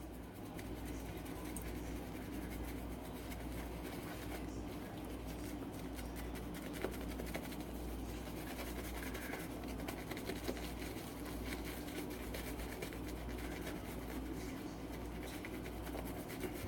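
A shaving brush swirls against an Arko shave stick, working up lather, a soft continuous scratchy rubbing at low volume with no speech.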